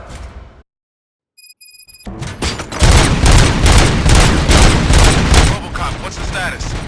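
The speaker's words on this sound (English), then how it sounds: "Gunshots? What's going on?" A rapid volley of loud video game gunfire from Robocop: Rogue City erupts after a brief silence, dense overlapping shots and booms lasting several seconds, close and harsh.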